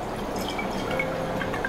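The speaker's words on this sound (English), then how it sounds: "we fill water in this and add some color to it" Water is poured into a glass during a home colour experiment, a steady trickling fill with faint drips and a gently rising tone, close and moderately loud without talk.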